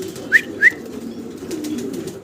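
A pair of large Modena pigeons gives two short, close, whistling calls in quick succession over a low steady background hum.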